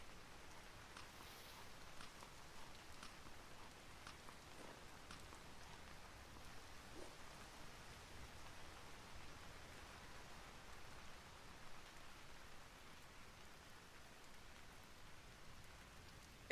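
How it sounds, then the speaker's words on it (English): Rain falls steadily in the game Vintage Story as a soft, even hiss of drops at low level that stays constant throughout with no other sounds. "That rain sound is making me feel chilly."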